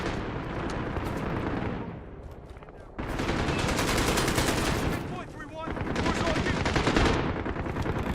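Heavy bursts of rapid gunfire and blasts in the video game Call of Duty: Modern Warfare fill the clip, with a short lull before the shooting resumes just as loud.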